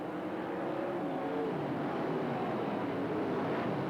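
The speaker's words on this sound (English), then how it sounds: "Sounds like somebody may have had an exhaust problem, though, as they went by the first lap, with Willie and Morgan out front." Dirt track race cars roar past at Silver Dollar Speedway during the 1993 Gold Cup, one with an exhaust problem, a constant blurred engine drone with shifting pitch from mid-distance.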